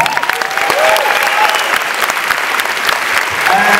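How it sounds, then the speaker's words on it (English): A theatre crowd at a FrightFest horror screening applauds filmmakers Jen and Sylvia Soska as they return to the stage, a dense continuous wash of clapping with some voices mixed in. "please give a big round of applause back to the stage to Jen and Sylvia Soska"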